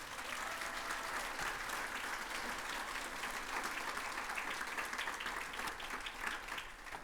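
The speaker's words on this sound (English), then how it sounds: "I want you to give him a big round of applause." Steady applause from a crowd, continuous clapping that holds at an even level throughout, sounding somewhat distant.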